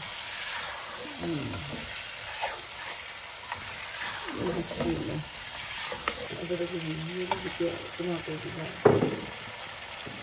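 Two to two and a half medium onions frying in a pan, a steady sizzling hiss running throughout with soft stirring scrapes and occasional louder bumps, while a voice talks intermittently over it.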